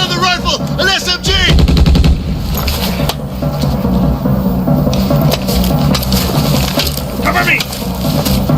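Submachine gun fire bursts out in a dubbed action film, loud rapid shots mixed with crashing impacts, music and shouted voices.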